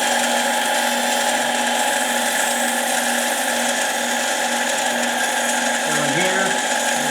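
A power tool deburring a port on a Husqvarna 371 chainsaw cylinder, heard as a continuous high-pitched grinding whine held close and loud, with a slight pitch dip near the end.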